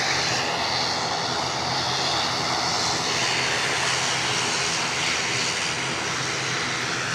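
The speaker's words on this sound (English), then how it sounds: "Inbound aircraft just over Newbridge." An inbound airliner approaching Edinburgh airport near Newbridge rumbles with a broad, steady engine roar that holds loud and unbroken throughout, heard from the ground with no voices.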